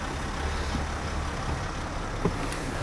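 A 2019 Mercedes-Benz Sprinter van rolls slowly around a lot, its engine giving a steady low rumble under faint road and cabin noise, with no talking.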